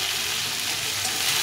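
Squash curry frying in oil in a pan for a vegetarian squash dalna, giving a steady, close crackling sizzle throughout with no voices.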